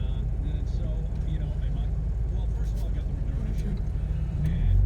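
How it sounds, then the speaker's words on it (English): Steady road traffic on Scottsdale Road at rush hour, a continuous low rumble of passing cars filling the scene without pause, swelling slightly louder near the end. "There's a lot of traffic on Scottsdale Road right now."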